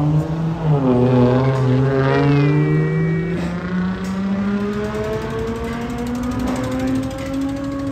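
A Pontiac G8 GT with its exhaust resonator deleted revs hard and loud close by, the engine note rising and then holding a rough, droning tone.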